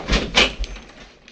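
A door opens in an old-time radio comedy set in a hotel suite, with a soft latch click, a louder swinging thump and a few faint creaks trailing off, heard alone.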